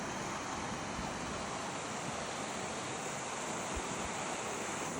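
Floodwater rushes through a roadside ditch in a loud, unbroken, hissing roar, close and steady, with some wind noise mixed in.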